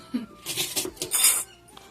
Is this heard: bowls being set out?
yes